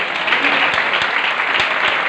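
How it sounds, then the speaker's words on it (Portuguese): A church congregation applauds the Lord during a sermon on first fruits offerings, a loud, dense and steady wash of clapping filling the whole moment. "Você pode aplaudir o Senhor?"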